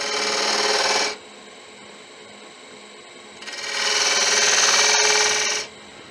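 Wood-turning tool cutting fine accent lines into the recess of a turned wooden ring on a lathe, giving two sustained raspy scraping passes, one about a second long and a longer one after a quiet gap.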